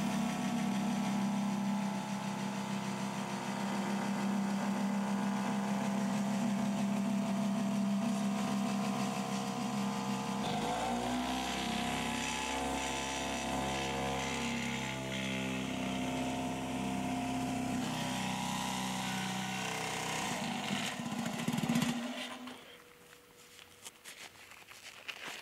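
A homemade vibrating plate compactor runs with a steady, loud engine drone and rattling vibration for most of the stretch, its tone shifting midway before cutting off near the end.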